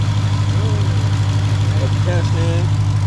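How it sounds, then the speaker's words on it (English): A brand-new engine in a Jeep Trackhawk idles steadily, a loud, constant low hum with a throbbing rumble that runs through the whole clip. A few faint voices talk underneath it. "They say you can't rev it till for like 500 miles. It's a brand new engine."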